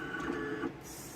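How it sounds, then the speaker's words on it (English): A direct-to-garment printer lays down white ink, producing a close, steady mechanical whir with a tonal hum that shifts and eases partway through. "it's printing absolutely perfect white ink right now"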